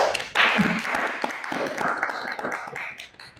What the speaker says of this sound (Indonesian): Boleh kita beri tepuk tangannya?